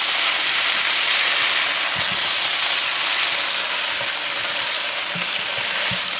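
Breadfruit fries in a pan, making a loud continuous sizzle with occasional low stirring knocks and scrapes, close and steady with no talking.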